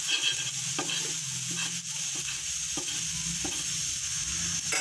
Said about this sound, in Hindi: जब हम तेल डालेंगे तो आलू को थोड़ा सा ऐसे फैला देंगे